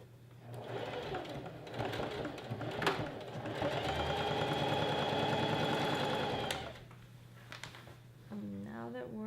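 A sewing machine stitches a one-inch rolled hem on a pleated maxi skirt: a steady mechanical whirring run for a few seconds between quieter handling noises, with a brief voice heard just afterward.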